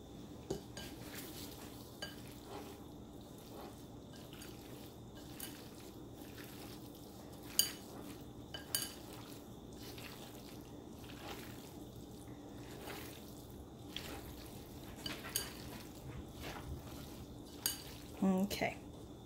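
Chicken is turned and mixed in a bowl: soft, faint scrapes and light clinks of a utensil, then dishes are handled, with scattered sharper knocks and rattles that grow busier toward the end in a quiet kitchen.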